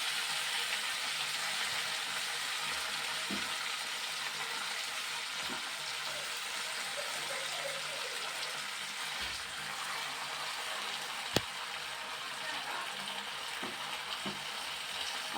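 Gongura (sorrel) leaves, freshly washed, frying in hot oil in a home kitchen, giving a steady close sizzle throughout with occasional faint clicks and stirring sounds, no talking.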